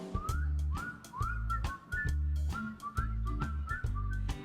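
Whistling at a live outdoor lakefront concert, clear rising whistled phrases repeating over a steady, strongly rhythmic low musical backing, fairly loud throughout.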